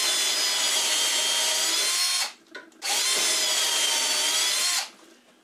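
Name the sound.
drill boring dowel holes with Jessem doweling jig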